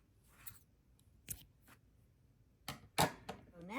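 Scissors snipping through crochet yarn, a few short, close, crisp cuts separated by pauses, with a louder double snip near the end.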